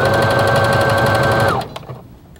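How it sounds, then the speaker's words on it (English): A sewing machine zigzag-stitches knit fabric with a ballpoint or stretch needle, running as a loud, fast, steady mechanical whir. The motor then winds down and stops, and a few light clicks follow. "it's a good idea to make sure that you have a needle specifically made for sewing on knits"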